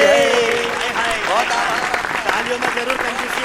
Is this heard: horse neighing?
no